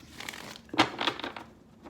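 Tarot cards being shuffled during a weekly reading, a short papery riffle of crisp flicks and rustles at close range, fairly soft, with one sharper burst near the middle and no talk.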